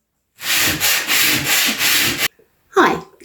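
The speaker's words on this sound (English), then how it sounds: "You keep sanding." Wood is sanded by hand in four quick rhythmic back-and-forth rasping strokes, close and loud, then a pause and a short scraping sound at the end.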